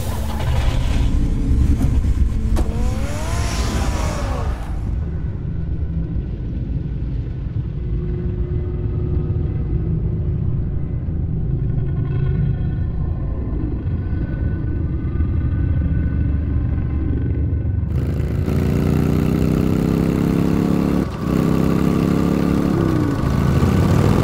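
A car engine runs in a Batman game, a steady low rumble and idle that holds throughout, strong at first, easing to a duller hum, then rising again with a brighter revving tone near the end, no voices.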